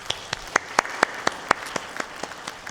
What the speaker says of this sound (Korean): 격려의 박수 드리겠습니다